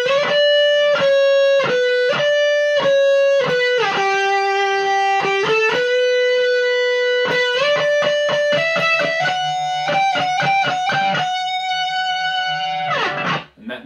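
Distorted electric guitar playing both interlocking parts of a song together: fast sustained picked notes shifting between pitches in a steady flowing line, loud and continuous, ending with a brief ringing scrape.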